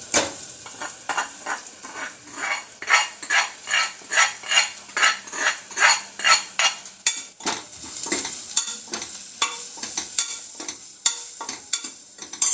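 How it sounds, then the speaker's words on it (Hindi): Masala spice tipped into a pan on a low gas flame and stirred with a utensil: a steady run of rhythmic scraping strokes with a light sizzle, then looser, irregular clinks and stirs, close and clear with no voices. "अब गैस को सिम कर देंगे और जो ये मसाला है ये डाल देंगे"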